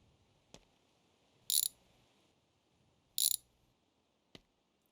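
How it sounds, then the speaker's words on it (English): A ratchet wrench used on car suspension parts gives two short, sharp ratcheting bursts with a few isolated clicks between them, close and alone in a quiet garage. "let's get our wrench"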